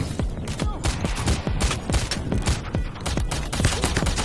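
Gunshots at bottle targets in the video game PayDay, during a diamond heist mission: rapid, dense, continuous volleys of loud shots with sharp cracks and no pause.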